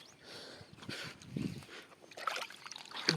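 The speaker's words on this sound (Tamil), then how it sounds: "பாருங்க ஃப்ரெண்ட்ஸ், தண்ணி வந்துட்டு இருக்கு." Irrigation water running into a farm field, a soft continuous trickle and slosh heard close by with gentle swells, unaccompanied by any voice.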